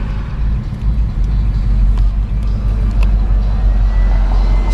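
A 1970 Buick Gran Sport with a Stage 1 engine and a recently rebuilt automatic transmission drives along, its engine a loud, steady low roar under faint background sound, with no clear shift points.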